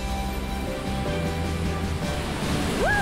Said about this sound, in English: First mate, those are some big waves.